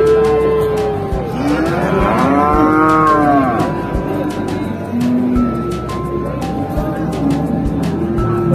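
Cattle at a busy livestock market low and moo in several drawn-out, overlapping calls, loud and close over constant crowd and market noise.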